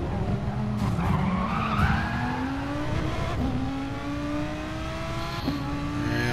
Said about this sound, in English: completely spun out Commander Cody there